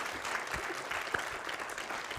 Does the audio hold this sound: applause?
yes